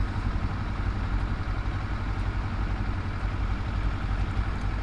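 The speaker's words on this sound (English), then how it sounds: "that loud truck, you know, gotta let everybody know you're driving that truck" A loud truck engine rumbles steadily nearby, a dense low idling drone that holds constant for the whole few seconds with no talk over it.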